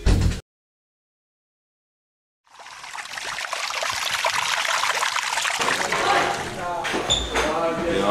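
A water-saving tap runs in a steady, close trickle that starts abruptly after a brief silence and continues evenly to the end.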